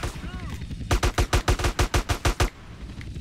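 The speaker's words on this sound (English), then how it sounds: "There was a guy behind me that was shooting at me." A rapid string of about a dozen evenly spaced, loud shots in GTA San Andreas, sounding like an automatic weapon, rising suddenly and cutting off after about a second and a half.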